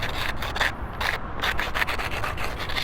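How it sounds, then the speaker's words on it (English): Sandpaper rubbing back and forth over the edges of a small model tail wing, loud close rasping strokes in a quick, steady rhythm, with no talking. "let's just sand it down"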